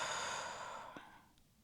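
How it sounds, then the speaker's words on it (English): A single slow breath during an at-home Pilates stretch, a soft exhale that fades over about a second and a half, close and quiet with no talking. "inhale through the nose and then exhale out through the mouth"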